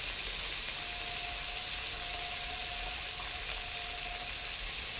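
Soybean curry with ginger and freshly added chopped tomatoes frying in a pan: a steady, even sizzle and hiss that holds without a break, fairly quiet and close.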